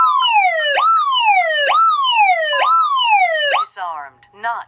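A Vista 10SE alarm panel siren wails loudly in repeated rising-and-falling sweeps, about four full cycles at a steady pace, then cuts off into a few brief broken chirps at the end, with no talk.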